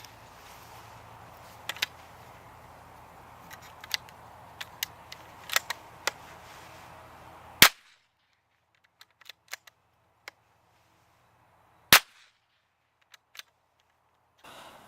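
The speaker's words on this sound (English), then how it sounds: "We'll put a final 2 rounds into the pumpkin" Two sharp, faint cracks of .22 LR Federal Game Shok shotgun rounds fired into a pumpkin outdoors, spaced a few seconds apart, with a few small clicks and ticks between and quiet surroundings.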